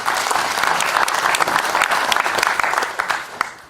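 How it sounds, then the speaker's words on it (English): An audience claps in a burst of lively applause at a live card magic act in Rotterdam, dense and close, tapering slightly at the end. "During that applause, I switched the second one."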